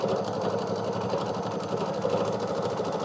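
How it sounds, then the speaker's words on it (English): An embroidery machine hums and chatters steadily while stitching a rabbit tack-down outline on a mug rug, its rapid needle strokes forming a continuous, even mechanical drone throughout. "I'm going to stitch down what they call the tack down"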